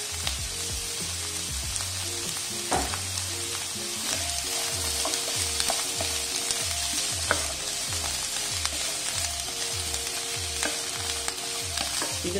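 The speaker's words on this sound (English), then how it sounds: "We will saute this till the onions are a little bit soft." Onions, roughly chopped garlic cloves and ginger sauté in a pan with a bright, continuous sizzle, overlaid by a regular scraping rhythm from stirring and a few clinks, close up and without speech.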